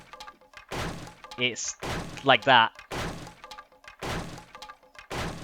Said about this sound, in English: With the fully upgraded fire axe, to take out these spikes,